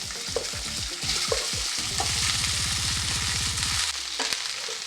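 Rice being stirred into a hot pan with fried peanuts for curry leaf rice, a steady close sizzle with quick scraping strokes of a spoon, then a run of rapid rhythmic stirring that stops near the end.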